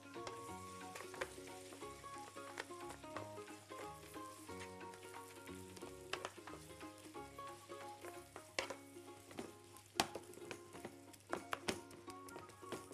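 Minced meat fries with onions, peppers and greens in a pan, a dense crackling sizzle with frequent clicks and scrapes as it is stirred, heard close and without talk.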